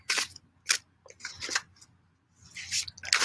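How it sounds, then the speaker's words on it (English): A Celtic Tarot deck by Courtney Davis being shuffled by hand, giving several short, crisp riffling bursts with brief pauses between them, close and fairly quiet, with no voices. "let's shuffle the deck."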